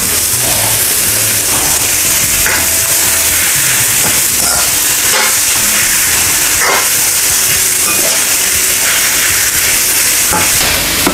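Fresh egg noodles and beef toast in a very hot pan, a loud, constant sizzling hiss filling the whole stretch with occasional clinks and scrapes of stirring, close by.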